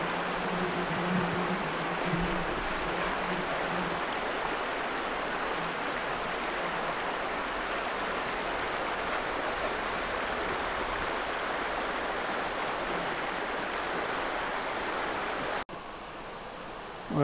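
The River Dart rushing over boulders, a steady broadband roar of flowing water close by and continuous, ending with a brief abrupt break near the end.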